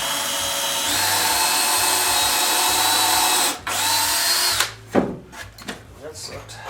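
A power drill drives through a screw while building a wooden shed ramp, a steady loud whine lasting a few seconds, then a brief restart, followed by clunks and handling noises.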